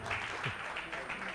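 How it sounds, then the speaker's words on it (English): Summit audience applauding as a panel discussion is called to the stage, a moderate, steady patter of many hands clapping in a large hall, sustained throughout with faint voices mixed in. "a round of applause for our second panel discussion"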